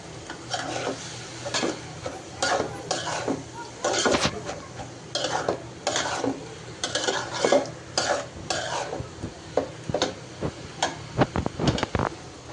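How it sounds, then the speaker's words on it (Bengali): Cabbage fry with coriander leaves stirred in a pan, rhythmic scraping strokes of a spatula against metal over a faint sizzle, close and fairly loud, no voices. "এই তো ভাজা ভাজা প্রায় হয়ে গেছে এখন তো ধনিয়া পাতা দিয়ে দিলাম তো আরেকটু নেড়ে চেড়ে এরপর নামিয়ে নেবো"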